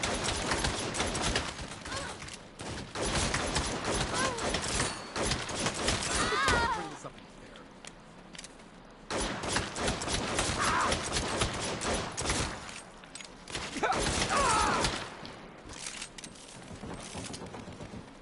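Gunfire in the 2022 video game Saints Row, with dense rapid bursts of shots in several long stretches separated by short quieter gaps, loud and close.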